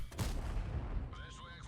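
In World of Tanks, a tank cannon fires once with a loud, booming blast that rumbles and decays over about a second, followed by faint game interface tones.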